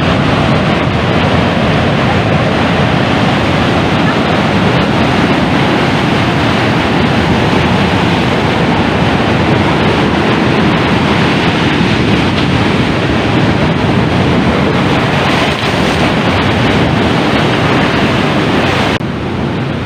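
Steady ocean surf rolls in at Sungai Suci beach in Central Bengkulu, a continuous broad wash of breaking waves with wind noise that holds the same level throughout.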